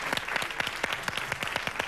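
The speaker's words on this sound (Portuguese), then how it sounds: "Um grande aplauso." Lively applause from an audience at a Portuguese music show, sharp individual claps standing out in a fast, irregular patter over a fuller crowd clatter, close and fairly loud.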